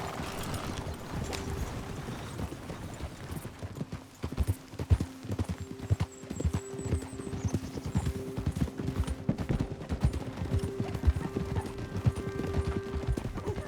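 A horse ridden in the Red Dead Redemption 2 video game gives a steady, rhythmic clip-clop of hooves that runs continuously and stays close and clear, with faint tonal sounds in the background.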